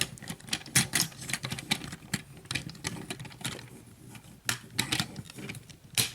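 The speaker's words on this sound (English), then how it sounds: "Make sure it makes that clicking sound." Rapid, irregular plastic clicks and snaps up close, a busy clatter of small parts of a Transformers Siege Ultra Magnus toy being pressed and fitted together.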